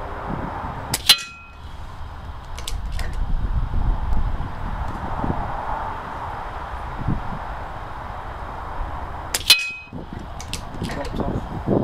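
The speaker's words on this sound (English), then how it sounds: "That wind's blowing in the face." Wind blowing outdoors at a rifle range buffets the microphone with a low, rumbling roar throughout, broken by two sharp, loud cracks from a tuned BSA R10 SE .22 air rifle.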